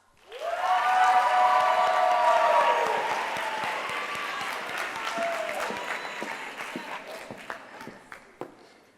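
An audience at a student lecture series bursts into loud, sustained applause welcoming a speaker, the clapping swelling quickly then thinning out into scattered claps and footsteps.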